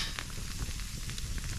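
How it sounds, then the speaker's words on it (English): Steak sizzles on a grill over a campfire, a dense, continuous crackling hiss with small pops, close and steady throughout. "Well, things are sizzling."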